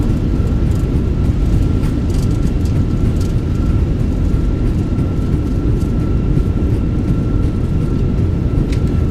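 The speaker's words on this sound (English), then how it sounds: "Reversers are out. Decelerating." A Fenix A320 in MSFS2024 lands with its thrust reversers deployed, producing a loud, steady, deep engine roar that holds throughout with a faint tonal whine above it.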